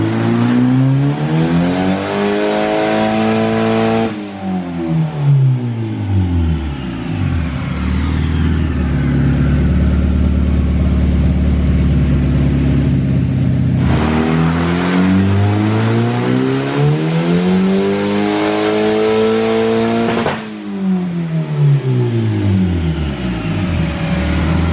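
An all-wheel-drive Honda CRX with its 2.5-inch exhaust unbolted screams through two loud dyno pulls, the engine revving high and sweeping up, dropping to idle between runs.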